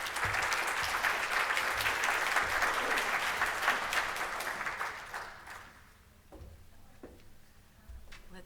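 An audience claps loudly and steadily to welcome a speaker at a talk on living with chronic disease; the dense applause tapers off after about five seconds, leaving scattered claps and room noise.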